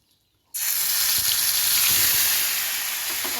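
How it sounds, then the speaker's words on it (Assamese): Onions dropped into hot oil in a pan burst into a loud, close, steady sizzle that starts abruptly and keeps hissing evenly throughout. "গেছৰ ফ্লেমটো মিডিয়াম কৰি মই 1 মিনিটমান পিঁয়াজখিনি মই ভাজি ল'লোঁ।"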